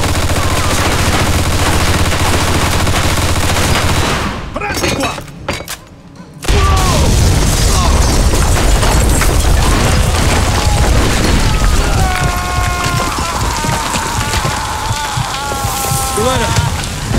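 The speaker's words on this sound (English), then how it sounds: "Put a grenade through the window." In the Mafia 2 wartime shooter, loud machine gun bursts and heavy booms dominate, then a grenade blast briefly drops everything to a muffled hush before gunfire resumes at full intensity, with shouted voices and metallic clatter mixed in.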